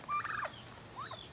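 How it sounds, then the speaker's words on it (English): Turkeys gobble at feeding time on a homestead, two short warbling bursts close by, the first louder and the second fainter, with no talk over them. "the turkeys know it's time to eat"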